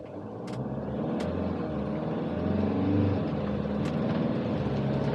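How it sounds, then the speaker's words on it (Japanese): A Fiat Ducato-based camper van accelerates away from a traffic light, its engine rumbling and rising steadily in a loud, continuous interior drone with faint clicks on top. "今ちょっと信号線となったんでちょっと加速してみます。"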